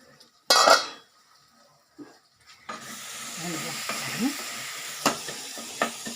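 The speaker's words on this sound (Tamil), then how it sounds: "இந்த தக்காளியில் நான் நல்லா வதங்கி வந்தேங்க நான் ஸ்லோ ஃபயரில் தான் வச்சுருக்கேன்" Tomato masala sizzles steadily in a pan on slow fire, with a sharp clatter at the start, then a soft continuous frying hiss broken by occasional spoon scrapes and taps.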